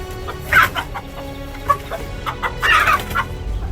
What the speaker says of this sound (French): cette poule n'était pas différente dans sa tentative de protéger ses poussins de ce cobra.